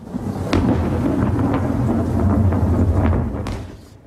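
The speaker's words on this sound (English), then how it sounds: "Thunder and lightning rattled much of our area today." Heavy thunder rumbles and rolls through a storm in the Los Angeles and Ventura area, loud and continuous for several seconds with sharp cracks, then fades out at the end.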